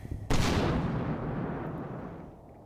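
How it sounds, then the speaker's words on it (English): Heavy artillery fire in the wartime video game Combat Mission: a single sharp, loud blast that booms then rolls off into a long fading rumble, with no talk. "I want to use the artillery to degrade the enemy's armor"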